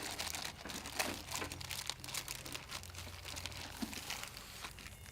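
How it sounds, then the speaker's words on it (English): A paper manual pulled out of the box of an EG4 6000XP off-grid hybrid inverter, a steady, close crinkling and rustling of paper lasting several seconds, with no voices. "pull out the manual"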